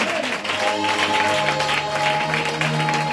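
A church congregation claps and cheers at a worship service, dense sustained applause with a sung or spoken voice carrying faintly beneath.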